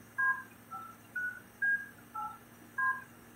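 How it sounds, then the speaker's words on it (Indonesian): Six evenly spaced keypad tones sound as an access code is entered in an OPPO phone's dialer, each beep short and fairly faint with no talking. "Lalu kita masukkan kode akses yang tadi kita buat."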